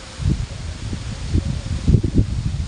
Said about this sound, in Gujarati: પવન આ ઝાડવા બી બહુ હલી રહ્યા